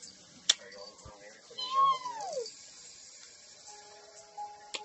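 A cat gives a single drawn-out meow, close and fairly clear, with a sharp tap just before it and faint background sounds around it.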